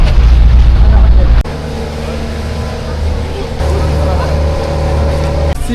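The engine of a tour boat runs steadily and loud from close by, a constant low drone with a brief drop in level partway through.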